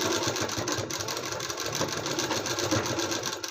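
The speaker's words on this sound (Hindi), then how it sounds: "किनारे किनारे सिलाई लगाते हैं इसको रखते हुए" A sewing machine stitches piping along the edge of an embroidered blouse: a close, steady, rapid mechanical whirr with fine rhythmic needle ticking running unbroken throughout.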